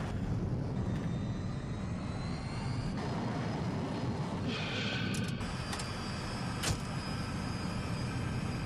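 A Little Bird helicopter in Battlefield 2042 flies with a steady, loud engine and rotor roar that holds throughout, with brief game effects near the end.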